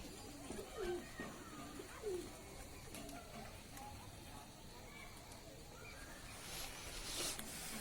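Pigeons coo softly from a tree outdoors, a few low murmuring calls scattered through steady background noise, faint and somewhat distant.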